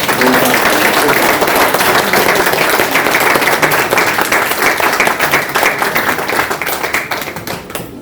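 Loud, sustained applause from an audience at a Helen Keller Day celebration at NIEPVD, dense hand clapping that holds for about eight seconds before thinning toward the end.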